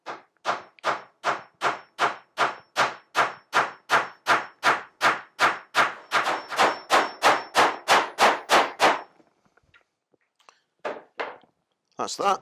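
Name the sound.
gently tapping fixings into timber of a beehive floor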